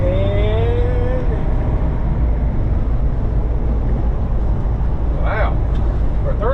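A 31-foot 2016 Coachmen Freelander 29KS Class C motorhome cruises along a road, a loud steady engine and road roar from inside the cab, with a passing whine near the end and voices talking over it.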